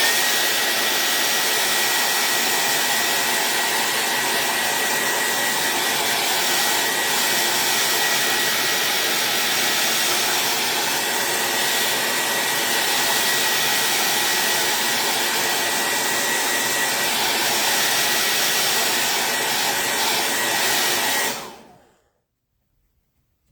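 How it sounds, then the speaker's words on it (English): Blow dryer running over freshly stained wood, a loud, steady whooshing roar held for about twenty seconds before cutting off abruptly into silence. "now I'm going to run the blow dryer over this for just a second"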